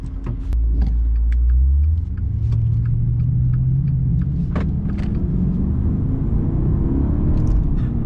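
A Maserati Ghibli Trofeo in sport mode accelerates hard from inside the cabin, its engine note rising steadily in a long pull with a brief shift dip early on, a deep continuous rumble throughout.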